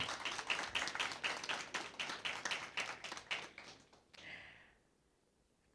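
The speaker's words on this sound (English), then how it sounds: "Round of applause for Dr. Semper" Audience clapping at an inter-secondary school debate, a steady patter of many hands for about four seconds that fades out, followed by quiet.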